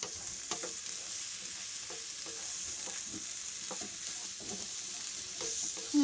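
Fried rice sizzles quietly in a pan while it is stirred, soft repeated scraping and tossing strokes over a low steady frying hiss.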